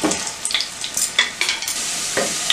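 Potatoes fry and are stirred in a pan at a village outdoor kitchen, giving a steady close sizzle broken by several scraping stir strokes of a utensil, with no voices.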